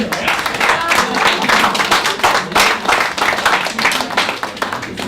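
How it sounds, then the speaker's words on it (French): Conference audience clapping at the end of a talk, a dense patter of many hands that swells and holds steady for a few seconds, close and moderately loud. "Vous pouvez applaudir."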